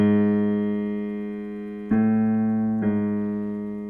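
Ear-training pitch demonstration: a held tone, then a second tone a half step away, then a third repeat, three clean sustained notes struck in sequence, moderately loud, with no voices.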